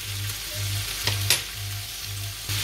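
Food sizzles loudly in a hot pan while being stirred, with a couple of sharp scraping stirs partway through over a pulsing low hum; no talking.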